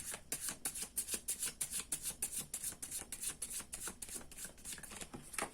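Tarot cards are shuffled in a quick, even rhythm of crisp riffling slaps, close and fairly quiet, repeating steadily with no talking.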